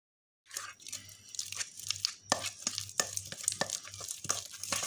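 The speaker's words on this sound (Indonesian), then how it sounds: "Kita kocok terlebih dahulu mentega, cukup cuma satu aja." Butter beaten until soft for a kue putri salju cookie dough, a rhythmic series of close scraping and slapping strokes about twice a second, each with a brief low thump, after a moment of silence.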